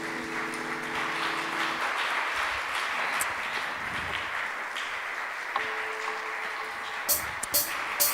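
A church congregation claps during a worship service, with steady moderate applause under lingering musical tones that fade out, followed by a few sharper, louder claps toward the end.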